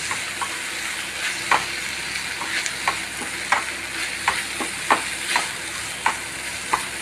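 Black pepper egg roast masala fries in a pan, a continuous close sizzle broken by regular scraping strokes of a spoon about every half second, with no talking.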